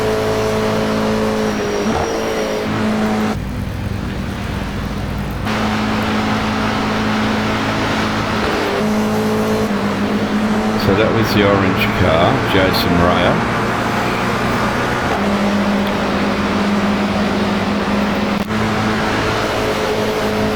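Toyota GR86 race cars at Willow Springs in iRacing, a steady engine drone with shifting revs and tire noise running throughout, while someone talks over it.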